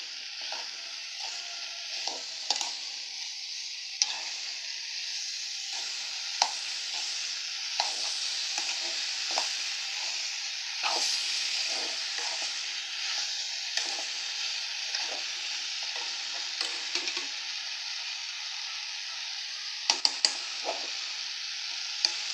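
Bitter gourd curry fries in a pan with a steady bright sizzle throughout, broken by repeated scraping stirs of a spoon against the pan and occasional sharp clinks.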